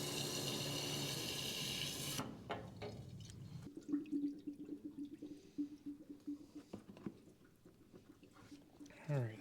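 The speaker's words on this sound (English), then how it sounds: "We'll put some water in there first." Water poured into the radiator of a Ford 9N tractor, a steady splashing stream at first, then gurgling and irregular trickles as the flow slows, with someone speaking.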